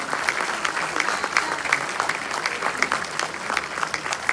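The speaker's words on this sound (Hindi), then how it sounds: "एक बार जोरदार तालियों से स्वागत करें" Sustained applause from an audience at a CSS Day 2023 ceremony in the Ambedkar International Centre, Delhi, welcoming an honoree to the stage; steady, dense clapping throughout with no talk over it.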